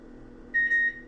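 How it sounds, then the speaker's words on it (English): A kitchen oven's control panel being set to 475 degrees gives one short steady electronic beep, clear and close over a quiet low room hum. "First thing I'm gonna do is put the oven on 475."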